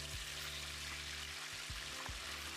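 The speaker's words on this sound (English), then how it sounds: "I'll add in the fish and let it fry." Steady, dense sizzling of fish frying in hot corn oil in a non-stick pan, close up, with a few soft clicks and bumps from the pan.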